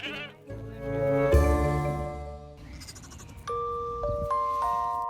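Sheep bleating indoors in a saloon, a few wavering harmonic calls rising and falling over a steady background hum, fairly close and clear with no talk.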